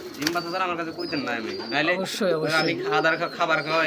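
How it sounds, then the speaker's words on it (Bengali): Indian high flyer pigeons coo in soft, repeated calls at close range, mixed with steady chatter from people nearby. "ইন্ডিয়ান হাইফ্লার কবুতর"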